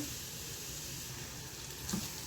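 Onion and capsicum sauté in a pan for a wheat flour dosa filling, giving a steady, faint sizzle with soft crackle and no talk.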